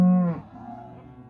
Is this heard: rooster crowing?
no